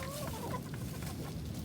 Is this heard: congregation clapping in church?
no